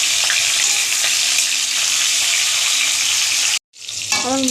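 Hilsa fish heads fry in hot oil with a loud, close, continuous sizzle that drops out for a moment and then surges back, joined by a brief squeaky whine.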